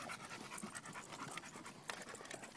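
Two pit bulls panting rapidly and continuously close by, a rhythmic breathy huffing heard outdoors without talk.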